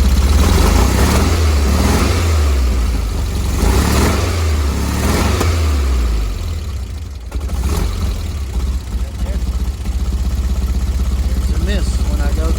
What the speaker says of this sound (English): Push through the throttle.